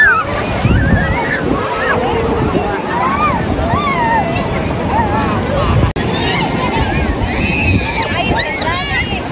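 Ocean surf breaks and washes steadily across Pangandaran beach, a continuous loud roar with wind buffeting the microphone, while children's high voices and talk carry over the water throughout.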